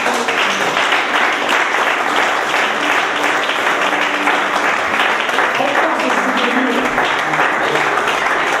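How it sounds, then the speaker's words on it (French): A congregation at a church service in Frankfurt am Main claps in sustained applause, a dense, even roar of many hands filling the whole stretch, with voices mixed into the clapping. "Können wir klatschen?"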